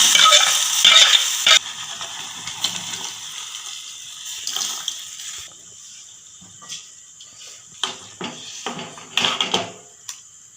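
Onions frying in a pan while a ground paste for a tomato huli is added and stirred in, giving a soft sizzle and intermittent scraping stirs that fade as the paste settles.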